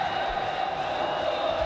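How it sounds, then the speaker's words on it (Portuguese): Paulista supporters singing in the stadium at Jundiaí during a Copa do Brasil final, a distant, blended crowd chant holding a steady sustained tone for a brief moment. "Torcida do Paulista canta em Jundiaí."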